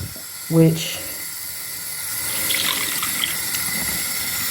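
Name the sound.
water rinsing out the back of a bathroom sink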